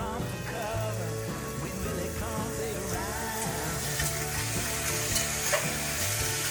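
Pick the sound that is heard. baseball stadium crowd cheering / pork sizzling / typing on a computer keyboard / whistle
pork sizzling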